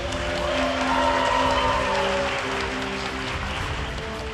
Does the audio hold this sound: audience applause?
yes